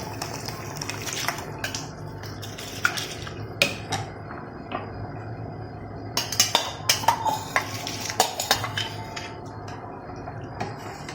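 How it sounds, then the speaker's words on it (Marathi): Soaked rice tipped into a pot of boiling water for veg dum biryani, with repeated clinks and scrapes of a metal utensil against the pot over a steady bubbling background. "त्यामध्ये आपण आता अर्धा तास भिजवून ठेवलेला तांदूळ घालून घ्यायचा आहे"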